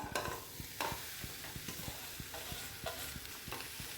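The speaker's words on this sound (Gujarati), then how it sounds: "હવે આપણે એમાં માવો શેકી લઈશું." Mawa (khoya) roasting in a pan over low heat for Surat ghari, a soft sizzle under steady rhythmic stirring scrapes, close and fairly quiet with no voices.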